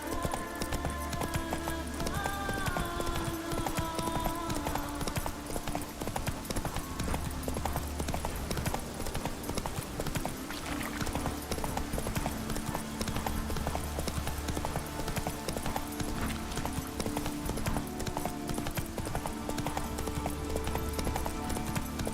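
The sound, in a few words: horse Roach trotting, hooves clip-clop, from The Witcher 3 video game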